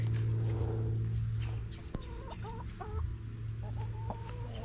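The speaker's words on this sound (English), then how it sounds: "These are Rhode Island Reds." Rhode Island Red hens cluck and murmur in short bursts close by, over a steady low hum in the background.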